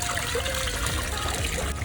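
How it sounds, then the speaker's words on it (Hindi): Water flows steadily from a newly changed pipe, a close, continuous trickling gush with bubbling texture and no talk over it. "तो पानी का फ्लो तेज़ हो गया, मैंने जब से पाइप चेंज किया है"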